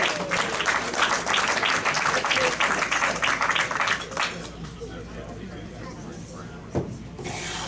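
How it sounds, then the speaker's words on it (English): Applause at a Rotary Club meeting for members with perfect attendance, a room of people clapping steadily for about four seconds before it fades into quieter murmuring and a few stray sounds. "Another round of applause for a perfect attendance."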